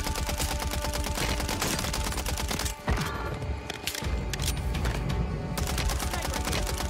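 Rapid, dense gunfire crackles nonstop through a Warzone 3 battle, with sniper shots mixed into a steady barrage that drops out briefly near the middle before resuming at full loudness.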